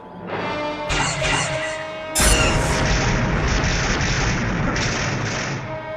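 Weapons fire from an animated starship battle sounds as a burst of heavy booms and crashes, with a rumbling impact that sustains afterward.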